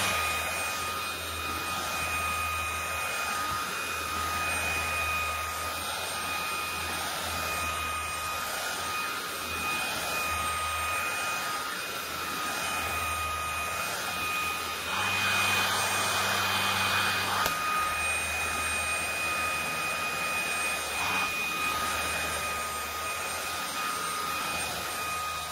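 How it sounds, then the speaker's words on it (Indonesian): Vacuum cleaner running steadily over a bed to suck up fine dust and mites, a loud continuous whine and low motor drone that surges briefly louder partway through, with no talking. "Kita akan vakum semuanya."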